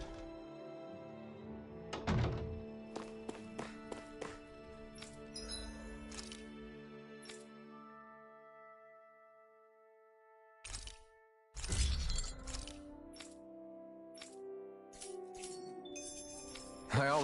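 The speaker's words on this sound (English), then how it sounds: "I always love the sound of hammers banging away." Hammers banging in the video game Tales of Arise, a scattered series of sharp metallic clanks and rings with some louder thuds, fairly close, ringing out over quiet gaps without speech.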